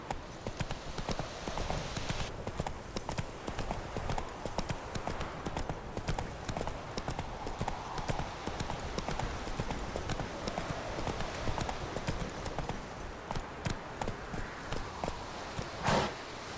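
Horse hooves clip-clopping steadily at a trot through an open landscape in The Witcher 3, rhythmic and close, continuing for the whole stretch with a brief louder burst near the end.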